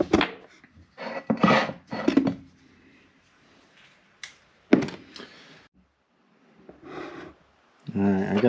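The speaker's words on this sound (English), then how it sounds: "Alright, I got this seal out." A seal is pried out of a Cat D4D part held in a vise. Close scraping and rasping bursts of metal tools against the part come in irregular spurts, with a sharp knock and quiet gaps, and someone speaks briefly.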